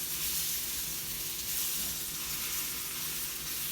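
Fully cured, smoked venison bacon browning in butter in a pan, giving a dense, steady hiss of sizzling fat that holds evenly close by for the whole stretch, with no voices.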